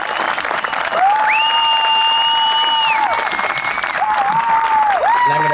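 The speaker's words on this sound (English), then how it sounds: "One more round of applause." Graduation crowd for a technical high school class claps loudly and steadily while long, rising whistles and whoops ring out over the applause, with cheering voices mixed in.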